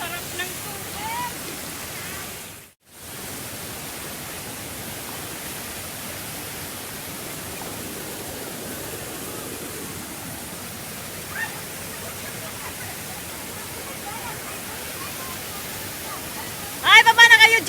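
Steady broadband roar of the waterfall at Tai Shui Hang Falls, Hong Kong, filling the whole stretch from nearby, with one brief dropout and faint voices near the end.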